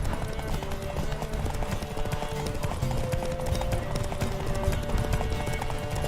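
A horse gallops in The Witcher 3, a dense, continuous pounding of hooves that carries loud and close through the whole stretch, with game sounds layered over it.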